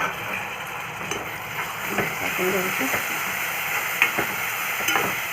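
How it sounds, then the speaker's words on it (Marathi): Finely chopped tomatoes sautéing in a pan with spices and kasuri methi for mushroom masala: a steady, close sizzle broken by repeated scraping stirs of a spatula. "टमाटा छान शिजवून घ्यायचा तर टोमॅटो आपला छान आता इथे परतून झालेला आहे"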